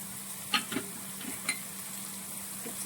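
Coriander powder and chopped tomatoes sauté in a pan for a roasted-coconut crab curry, giving a quiet steady sizzle with a few soft stirring scrapes and clinks of the spoon.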